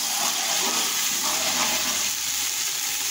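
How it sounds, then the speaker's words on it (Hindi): Water added to a pot of browned onions in hot oil, a steady loud sizzle and hiss of frying that continues evenly without any talking. "प्याज को हमने ब्राउन कर लिया है, अब हम इसमें थोड़ा सा पानी ऐड करेंगे।"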